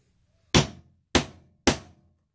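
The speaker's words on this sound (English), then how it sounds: "you want to lightly tap it with the hammer and it'll start to press that leather in more" A hammer lightly taps leather to press snaps in, three separate sharp knocks roughly half a second apart, each decaying quickly, close and alone in a quiet room.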